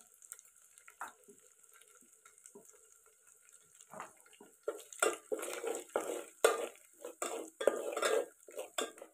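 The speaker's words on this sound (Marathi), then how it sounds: "मसाले छान फोडणीमध्ये मिक्स करून घेतले" A spoon scrapes and clinks against a pot as dried red chili powder and bedgi chili powder are stirred into hot oil for chicken rassa cooked over a wood-fired stove, quiet at first, then louder, busier strokes.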